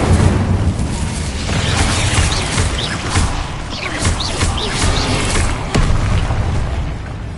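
Confringo fire spell explosions in a video game, loud booms and popping bursts repeating every second or so amid crackling, whooshing combat noise.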